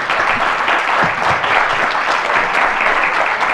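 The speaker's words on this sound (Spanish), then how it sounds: "Vamos a pedirle que se ponga de pie y lo vamos a aplaudir." An audience at an internet governance forum session applauds the moderator, dense steady clapping throughout, loud and close with no pauses.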